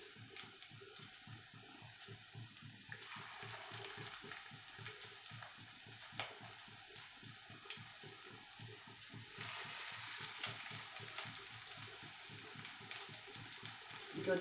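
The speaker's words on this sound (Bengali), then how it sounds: "আমি একটু বড় বড় করে ভাজছি" Fish egg pakoras frying in hot oil, a steady hiss and fine crackle that runs throughout and swells louder toward the end, with a faint voice briefly in the background.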